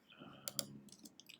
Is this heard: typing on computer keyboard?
yes